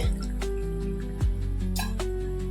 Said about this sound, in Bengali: এর মধ্যে অল্প একটু জল দিয়ে